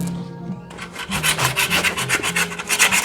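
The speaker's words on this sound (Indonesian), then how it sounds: "Kita amplas biasa aja. Pakai amplas yang kasar aja biar lebih cepat ya teman-teman" Coarse sandpaper rubbed by hand across a drum brake shoe lining, a close, raspy scraping in quick back-and-forth strokes that starts after a brief quiet moment and continues rhythmically.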